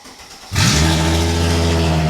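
A supercharged Mercedes SLK320 engine cranks briefly and catches, then settles into a loud, steady idle with a deep even hum, close by with no talking.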